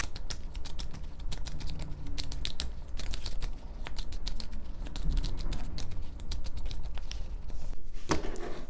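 Oracle cards being shuffled by hand for a tarot-style reading, a dense close run of rapid papery flicks and riffles that carries on steadily for several seconds before a brief pause, no talking.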